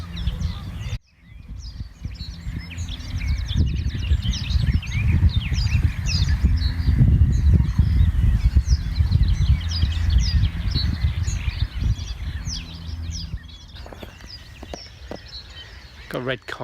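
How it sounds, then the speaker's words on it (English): Many birds at a nature reserve chirp and call in dense, overlapping bursts, over a strong low rumble of wind or handling noise, with a brief quiet gap near the start and scattered clicks toward the end. "Just listen to these birds."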